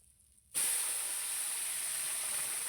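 Boiled pumpkin poured into hot oil tempered with panch phoron and bay leaf bursts into a loud, steady sizzle after a brief quiet start, hissing continuously to the end.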